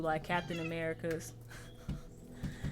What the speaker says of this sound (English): Excuse the cat.